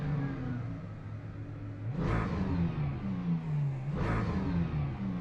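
A Ginetta LMP3 race car in the Le Mans Ultimate game runs at Circuit Paul Ricard, its engine droning and climbing through the revs, with two quick upshifts breaking the note as it accelerates, and no talk over it.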